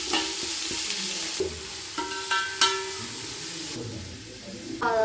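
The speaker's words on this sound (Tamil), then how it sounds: "வெங்காயம் நல்லா இந்தளவுக்கு வதங்கிச்சு" Chopped onions sautéing in oil with salt for a mutton biryani, a steady sizzling hiss under repeated scraping stirs and a few clinks of the spoon against the pot, close and continuous.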